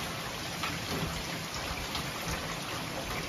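Steady rainfall hisses evenly, a dense constant patter of drops heard up close.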